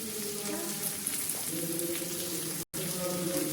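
Chopped onion and tomato, salted, fry in a pan with a soft, continuous sizzle that stays fairly quiet and even throughout the short stretch, with no talking.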